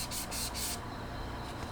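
Sponge sandpaper scrubs across the flat face of a plastic model kit part in a few quick back-and-forth strokes, a close, bright rasping that fades into quieter rubbing.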